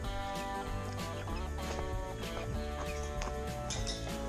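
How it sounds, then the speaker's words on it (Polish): Broody hens clucking inside a chicken coop, a steady overlapping chorus of low clucks and murmurs that fills the whole stretch at close range, with no talk. "Zobaczmy, czy kwoczki mają pod sobą coś."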